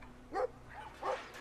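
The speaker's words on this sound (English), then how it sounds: "Little yappy dog's going to bite your ass." A small yappy dog in the video game Brothers: A Tale of Two Sons gives two sharp, close barks about half a second apart, with quiet background between them.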